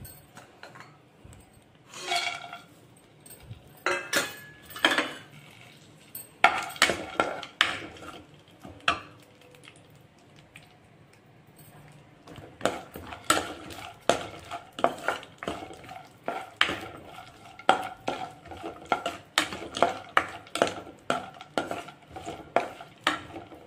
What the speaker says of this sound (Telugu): గీ వేసుకున్నాక ఈ బాదం, జీడిపప్పు ఉన్నాయి కదా, అవి వేయించుకోవాలి.